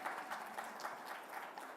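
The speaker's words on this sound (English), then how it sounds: "A loud round of applause" Audience applause after a conference session at an education event, a steady, moderately distant wash of many hands clapping throughout, fairly faint and even with no talk over it.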